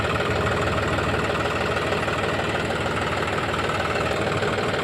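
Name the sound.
John Deere 5210 tractor engine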